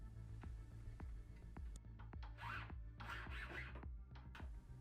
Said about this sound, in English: The new piece of gold that was soldered in will need to be blended with the original ring. I'll do this by using my file.